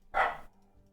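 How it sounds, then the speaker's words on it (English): A dog outside gives a single sharp bark at passing cars, loud and brief, then it fades into quiet room noise. "It's Apollo just barking at cars outside."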